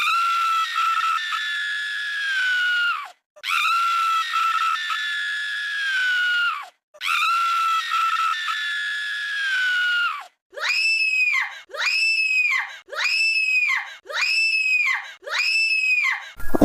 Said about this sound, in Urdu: وہاں سے کبھی کبھی چیخوں کی آوازیں آتی ہیں